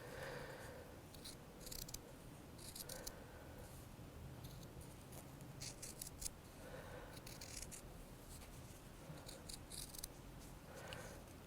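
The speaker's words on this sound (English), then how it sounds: "I'm going to snip into that seam allowance where the petals meet there" Sharp scissors snipping into the fabric seam allowance of a sewn flower shape, several short quiet cuts spaced a couple of seconds apart, close up and faint, with no talk.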